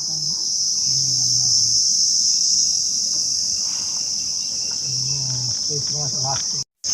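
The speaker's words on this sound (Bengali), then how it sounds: "চারিদিকে শুধু ঝিঝি পোকার ডাক।" Dense, loud crickets chirp in a continuous high buzz throughout the Sundarban mangrove forest, with brief low murmurs nearby and a short dropout near the end.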